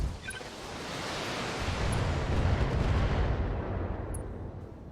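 LBX autocannon fire in the BattleTech video game, a booming, rumbling barrage that swells into a broad wash of blast noise with faint clinks on top, slowly fading.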